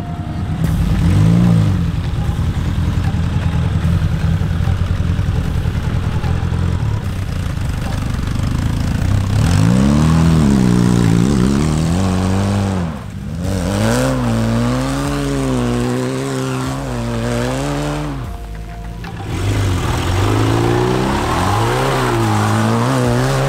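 A Peugeot 205 fitted with 4x4 off-road tires spins its wheels on greasy, muddy ground, the engine droning loudly then rising and falling in repeated revving surges as the tires lose grip, with no talking.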